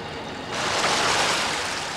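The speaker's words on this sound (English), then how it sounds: "Or I could show the water emptying out of the lock." Water rushing out of a canal lock as it empties, heard as a steady broadband roar that swells sharply partway through and stays loud and close to the end, with no voices.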